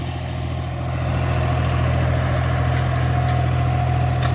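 A John Deere 5050D tractor engine running steadily while pulling an 8x8 disc harrow through a field, a continuous low diesel drone that grows slightly louder after the first second and holds level, close and with no talk.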